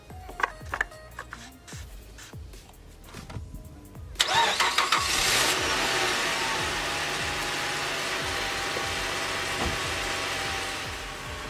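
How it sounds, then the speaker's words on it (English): A 2006 Chrysler 300 with the 2.7 engine cranks over, catches, and settles into a steady idle, close and fairly loud, with some ticking and clicking before the start. "All you gotta do now is run your engine for 5 minutes"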